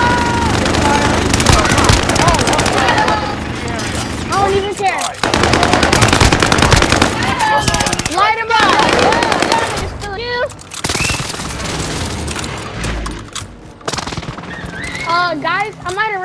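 Rapid minigun fire from Call of Duty: Modern Warfare rattles in loud, sustained bursts, mixed with other gunfire and game effects, while players talk over it.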